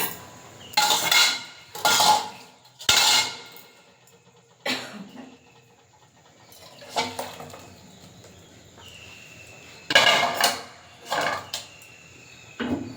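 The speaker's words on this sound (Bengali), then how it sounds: "মাছের ঝোলটা হয়ে গেছে, এবারে নামিয়ে নেব।" A pot of fish curry cooked with black cumin paste is lifted off the stove in a village kitchen, giving a string of close metallic clanks and scrapes at irregular intervals, separated by quiet pauses, with no one speaking.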